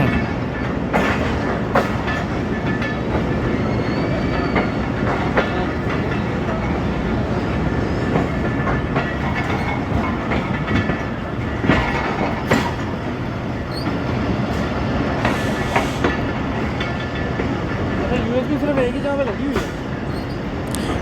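A passenger train runs on the Sialkot–Wazirabad line in Pakistan, heard from on board as a loud, continuous rumble with rhythmic clickety-clack of the wheels and occasional squeals. Voices can be heard faintly under the noise.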